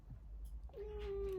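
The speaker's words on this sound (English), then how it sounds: "Oh, my cat has decided to join us." A house cat at home lets out a single drawn-out meow that rises and holds steady, close by over a low background hum.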